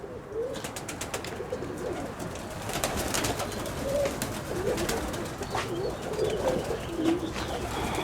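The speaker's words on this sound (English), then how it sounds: "Another loft over here, more pigeons." Pigeons coo steadily in a loft among many birds, soft rolling calls repeating throughout against a busy outdoor background with faint rustling.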